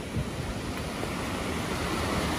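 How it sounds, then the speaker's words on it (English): A river running in full flow on a wet, rainy day at Lyme Regis, heard as a steady, loud broadband rush of water with wind and no pauses. "there's the river starting to get into full flow there"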